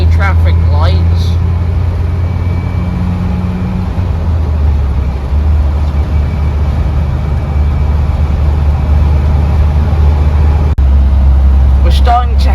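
A 1984 Land Rover 90 engine drones loud and steady from inside the cab while driving in traffic, a low rumble that holds roughly constant throughout with a brief dip near the end.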